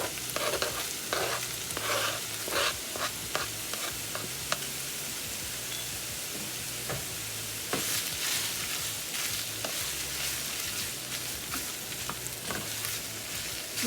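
Peppers, onion and sausage, added to drained ground beef, cook over medium heat in a pan, giving a steady frying sizzle with frequent scraping stir strokes throughout, close and moderately loud.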